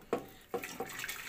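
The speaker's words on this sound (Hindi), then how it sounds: "इसके अंदर इसको ये हम छान लेंगे।" Strained yakhni stock for soup is poured through a strainer, liquid splashing close by in three short bursts with a wet, trickling wash between them and no talk.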